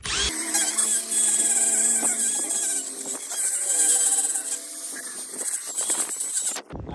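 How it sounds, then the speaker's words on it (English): A drill brush scrubbing a car seat whirs steadily with a high motor whine and a hissy scrubbing texture, running continuously and fairly loud throughout. "I'm going to start out with the drill brush just because it works a little bit quicker."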